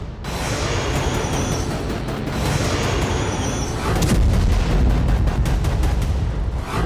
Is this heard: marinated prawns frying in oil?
no